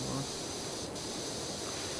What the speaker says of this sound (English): You can see we're getting some water spray.